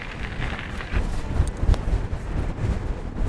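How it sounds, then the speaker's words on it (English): Strong wind buffets an outdoor microphone near a marshy area by a small bridge, a rough, gusty low rumble that swells and drops irregularly, with no voices. "Very, very windy though."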